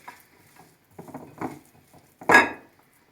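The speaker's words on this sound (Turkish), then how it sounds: "Malzemelerimizi karıştıralım ve sonrasında yapılışına geçelim" Ingredients for paçanga börek filling being stirred and mixed in a bowl, heard as a few scattered clinks and scrapes of utensil against dish, ending in one louder, brief clatter; no talking.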